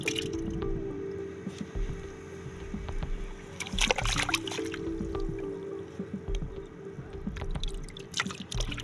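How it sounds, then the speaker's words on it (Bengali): Water seeps into a freshly dug hole in wet desert sand and slowly collects there, making soft drips, trickles and squishy wet-sand sounds that are faint and close. "এখানে আস্তে আস্তে পানি জমতে থাকবে,"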